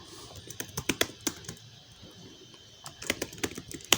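Fingers type on a computer keyboard in irregular bursts of crisp, close clicks, with a short pause midway before the tapping resumes; no voice is heard.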